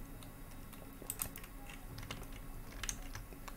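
Computer keyboard keys pressed for a Ctrl D shortcut, a few quiet, close clicks and taps in a short, sparse burst.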